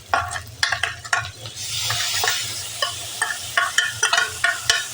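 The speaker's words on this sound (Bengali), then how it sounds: "পেঁয়াজটা ভালো করে ভেজে নিতে হবে। রসুন বাটা দিয়ে দিলাম।" Onions and green chillies frying with garlic paste for a mutton and potato curry, a loud close sizzle broken by frequent quick scraping stirs in an uneven rhythm, with a surge of hiss midway; no talking.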